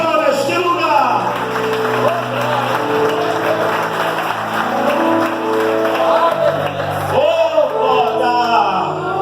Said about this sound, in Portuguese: Aplauda o nome do Senhor neste lugar.